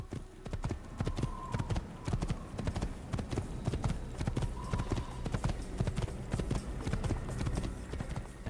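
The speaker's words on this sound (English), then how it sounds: "let's hop onto this horse" Horse hooves pound in a fast, steady galloping rhythm in the Assassin's Creed video game, continuous and fairly close throughout.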